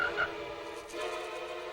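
Toad croaking in a mid-1990s Downy fabric softener TV commercial, a short rough call near the start over a continuous bed of music, fairly loud and close.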